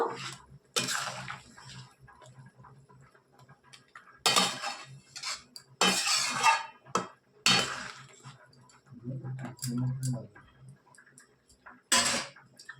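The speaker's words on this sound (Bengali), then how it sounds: "এরপর আমি চিংড়ি মাছগুলো সব দিয়ে দেবো এই ঝোলের মধ্যে, দিয়ে একটু নাড়াচাড়া করে নেব।" Prawns being stirred into a simmering curry sauce for chingri malaikari, with a utensil clinking and scraping against the pot in scattered bursts amid quieter stretches.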